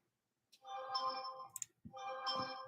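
A phone's new ringtone or notification plays twice, a bright melodic electronic tone with a short tap or click between the two rings, close by and fairly clear with no talk over it.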